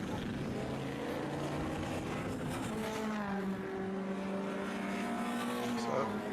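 Classic racing cars lap the Estoril circuit, their engine notes droning and sweeping up and down in pitch as they pass at a distance.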